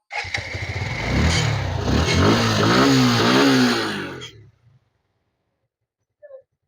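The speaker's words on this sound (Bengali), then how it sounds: "বাইকটা এখন স্টার্ট দিয়ে সাউন্ড কোয়ালিটি শোনার চেষ্টা করো" A Suzuki Gixxer motorcycle engine fires up close by and revs loudly, rising and falling for several seconds before cutting off into silence, followed by a faint brief knock.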